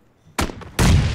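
Two sharp gunshots in the PUBG Battlegrounds video game ring out less than half a second apart, loud and close, each trailing into a dense, booming sustain.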